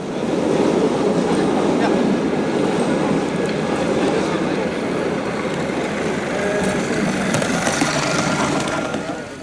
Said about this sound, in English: So now we have the lovely little Scratchbuilt Dutch tram and coach.